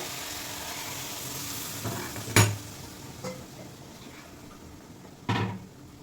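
Dal poured into a hot pan sets off a steady sizzle under a background hiss, with a few sharp clatters from the pan or utensils along the way.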